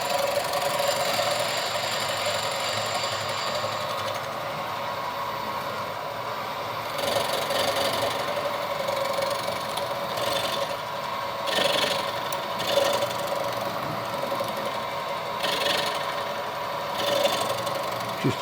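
A machine tool mills a KTM motorcycle crankcase under manual control, with both handles worked at once, giving a steady mechanical whir and hum. Irregular faint clicks and cutting chatter sit on top of it, with no speech.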